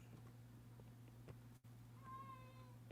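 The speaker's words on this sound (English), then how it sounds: "I may have to go shoo this kitty away here from the door." A cat meowing at a door, one drawn-out rising meow near the end, faint over a steady low hum and a brief thump.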